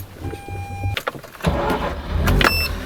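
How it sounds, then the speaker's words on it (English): A Mazda RX-8 is warm-started up close: a brief electric whir and cranking, then the rotary engine catches and settles into a steady idle rumble inside the car. "let's start the car"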